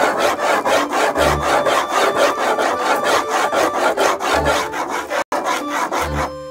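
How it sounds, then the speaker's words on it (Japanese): Red pen coloring small circles on white paper: a loud, continuous scratchy rubbing with a quick circular rhythm, broken once by a brief gap near the end. "同じような大きさの円をこうやって描き続けるっていう"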